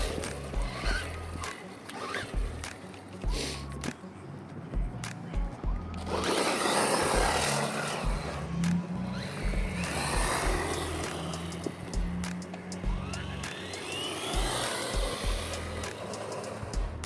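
A DEERC H16E RC car driven out on the street, giving a continuous mid-loud whine and rolling roar with a busier, louder stretch in the middle, passing clicks and rattles, and no talk.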